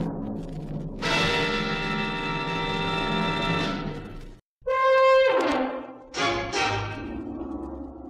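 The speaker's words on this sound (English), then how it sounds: "She pressed a dainty finger on the bell" A doorbell rings in a radio drama with sustained, resonant bell tones, a long ringing chime followed after a short gap by several brighter, clanging strikes that decay between them.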